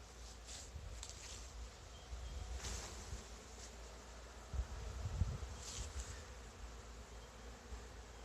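Bees shaken out onto the ground in front of a hive fill the air with a steady, fairly faint buzzing hum, with a few brief rustles and soft thumps partway through.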